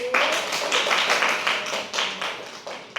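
Classroom of primary pupils applauding a presenting group, a dense burst of many small hands clapping quickly and unevenly, close and fairly loud with no talk over it.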